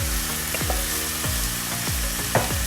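Beef sirloin sizzles loudly in a hot pan, a steady crackling fry with several sharp hissing bursts as the meat is stirred and moved around, close up and with no talking.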